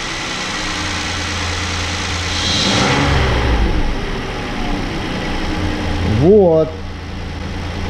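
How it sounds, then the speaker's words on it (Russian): A Hyundai ix55 with a 3.8 V6 engine idles with a steady, low mechanical hum while someone talks over it during a check of its intake camshafts. "пока вот на холостом ходу он работает"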